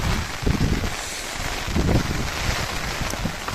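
Steady roaring wind with a dense hiss like heavy monsoon rain at Bhagamandala, Karnataka, continuous and loud, buffeting gusts rising and falling throughout.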